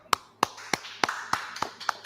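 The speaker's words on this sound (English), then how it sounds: "Clap it up." Roughly eight sharp, evenly spaced claps ring out at a Thursday scripture class, distinct and fairly close, with no voice over them.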